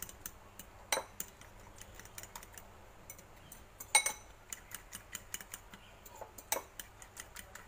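A utensil stirs a vegetarian egg roll mixture in a bowl, making irregular light clicks and taps against the sides, with a few sharper knocks, and no one talking.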